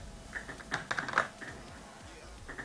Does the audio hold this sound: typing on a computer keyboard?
yes